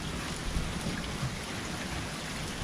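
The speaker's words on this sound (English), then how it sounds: "we ended up getting a hailstorm" Hail pours down during a Texas hailstorm, a dense steady roar of pellets striking surfaces outdoors, loud and continuous with no voices.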